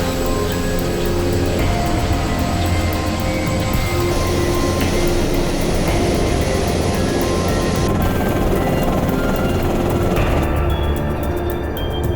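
An Apache attack helicopter flies by, its rotor and engine a loud, steady, dense roar held throughout without a break, with no talking.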